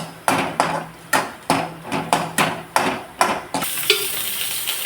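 Onion sautéed in oil until red for a cluar bean curry, a spatula tapping and scraping the pan in a quick series of about nine sharp knocks, then a brighter sizzle taking over, close and loud.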